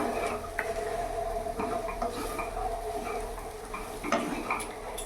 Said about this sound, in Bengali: এবার ভালো করে আমি নাড়িয়ে নেব।